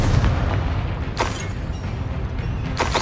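Confringo explosive spell in Hogwarts Legacy, a deep booming detonation with rumbling low end and a couple of sharp bursts cutting through, loud and close throughout.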